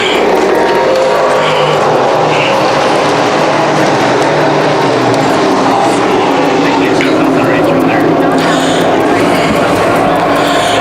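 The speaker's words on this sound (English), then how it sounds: "Steve Rickett, green flag in the air. We go racing with a sportsman." Sportsman race cars roar around a racetrack in a loud, continuous engine drone with a broad rumble that swells and fades slightly as the pack passes, while a commentator talks over it.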